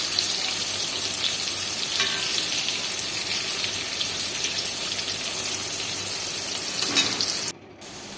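Food frying in a pan produces a close, steady hiss and crackle that continues evenly, then cuts out briefly near the end.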